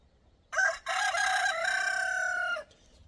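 A single rooster gives one loud, close, warbling crow lasting about two seconds, set against quiet background.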